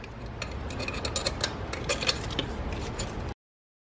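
Rapid, steady metallic clicking from a ratchet or wrench as the bolts are started on a Volkswagen Tiguan alternator, close and continuous for about three seconds before stopping abruptly.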